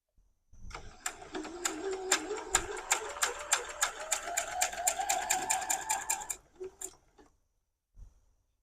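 A home sewing machine stitches a potato chip quilt block, a steady run of rapid needle clicks and motor whir lasting several seconds, then a brief pause and a couple of short final bursts.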